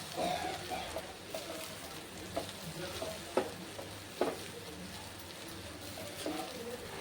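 A spoon stirs potato poha with fried peanuts in a pan, scraping and turning with a light sizzle, and several sharp clinks stand out over a steady background hum.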